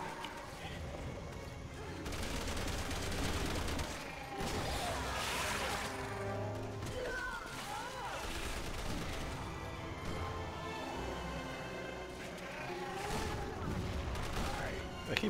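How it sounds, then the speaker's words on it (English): Grenade blasts and gunfire in the video game Resident Evil 6 roar through a dense, chaotic stretch of booms, shots and crashes over game music, with a voice talking underneath. "I keep throwing these grenades too far."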